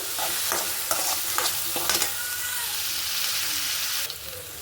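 Onions frying in a pan for an egg stir-fry, a steady broadband sizzle with a few sharp stirring scrapes near the start, close and fairly loud, no talk.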